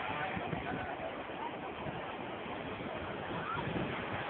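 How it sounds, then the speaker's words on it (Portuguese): Steady ocean surf washing onto the beach at Praia do Farol, a continuous broadband wash with wind noise buffeting the microphone and no distinct breaks between waves. "Ondas na praia."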